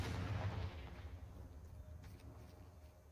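A Confringo explosive spell blasts in Hogwarts Legacy with a deep, loud boom that rumbles and fades over a few seconds, followed by faint scattered crackles.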